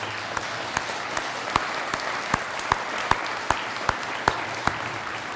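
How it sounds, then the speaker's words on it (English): Students in a school Veterans Day program applaud steadily for several seconds, a dense wash of clapping from a large group with a few louder individual claps standing out at regular intervals. "give them a round of applause"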